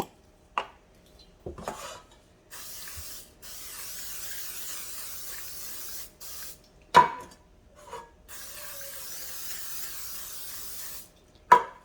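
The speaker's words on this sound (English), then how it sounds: "And I'm gonna coat them in my nonstick spray." Several short hissing bursts of nonstick cooking spray from an aerosol can onto two 8 to 9-inch cake pans, separated by pauses, with light clinks of the metal pans in between; close and fairly quiet.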